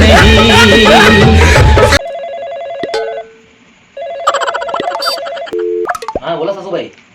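A telephone ringing in a Marathi comedy sketch: after a burst of music, electronic ring tones sound in repeated short bursts with brief pauses, close and fairly loud.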